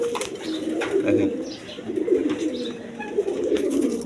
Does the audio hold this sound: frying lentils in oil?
no